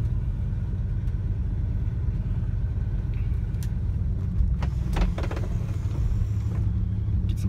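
Inside a 1970 Lincoln Continental on white-wall tyres cruising along county roads, a steady, loud low rumble of engine and road noise fills the cabin, with a few faint clicks and creaks near the end.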